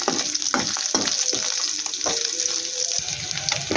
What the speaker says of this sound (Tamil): வெங்காயம் சேர்த்து நல்லா கிளறி விட்டுக்கலாம்